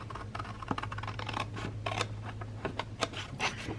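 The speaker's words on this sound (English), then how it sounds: "I'm going to take my scissors and I'm going to separate this from the rest of the page" Scissors cut through a paper scrapbook page in a quick series of close, crisp snips and rustles, with no talking.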